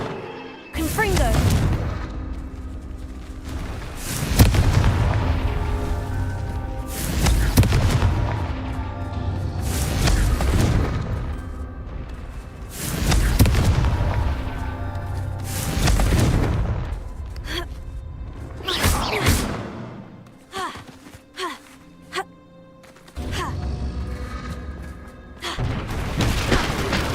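Confringo explosion spells in the video game Hogwarts Legacy: heavy, loud booming blasts repeat every few seconds, each swelling and decaying, with a voice talking between them.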